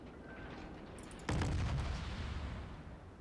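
A naval gun salvo from the cruiser New Orleans in World of Warships fires as a single sudden boom over a steady game background hum, with a rumbling tail that slowly fades.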